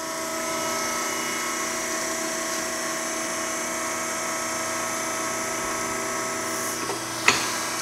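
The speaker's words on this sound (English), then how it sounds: "That's why we use a bender." Radius bender bending a weld test piece, a steady mechanical hum and whine held at constant speed, ending with a sharp crack or thump near the end.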